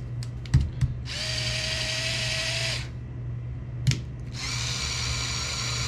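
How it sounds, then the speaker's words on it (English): A Ryobi 4 volt 2-speed screwdriver/drill bores into very hard wood in two bursts of steady, high whirring, the first about two seconds long and the second starting after a short pause, with light handling clicks before each. "This is a 2-speed drill."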